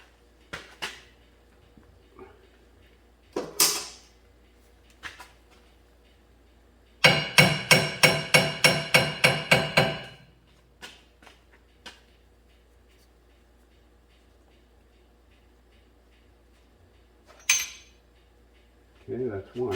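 Axle shafts being pushed into the rear axle housing of a 2011 Ford F150 give a burst of rapid metallic clanks and clinks for about three seconds, with scattered knocks and handling noises before and after.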